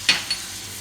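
Green chillies drop into hot oil for a tempering, giving a short sharp sizzle followed by a second smaller crackle, close and quiet with nobody speaking.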